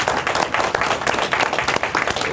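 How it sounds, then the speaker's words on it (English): Audience applause at a 15-year anniversary commemoration for a fitness business, loud and close with dense, rhythmic clapping from a crowd throughout. "Let's give him a round of applause"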